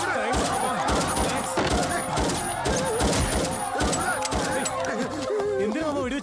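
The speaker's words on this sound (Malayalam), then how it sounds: "എന്തിനാ മാമ വെടിവെച്ചത്? നീയല്ലേ വെടിവെച്ചത്?" Rapid gunfire crackles through a fight scene from the action film Lucky The Racer. The dense bursts of shots are mixed with loud music and shouting voices.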